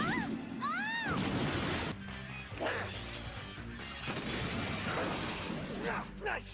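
Blaster shots and crashing impacts from an animated Teen Titans battle scene burst in quick succession, with whooshing sweeps and voices shouting over the fighting.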